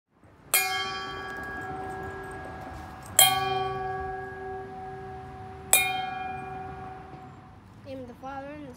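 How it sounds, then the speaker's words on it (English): Three loud church bell strikes about two and a half seconds apart, each ringing out with a long resonant decay, with a brief voice at the end. "Listen for the bells."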